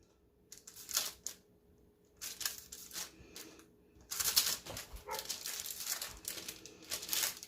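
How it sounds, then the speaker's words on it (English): A dog barks outside a kitchen, somewhat distant and muffled, in repeated bursts of yelps and woofs throughout, over faint background hum. "That's my dog barking outside."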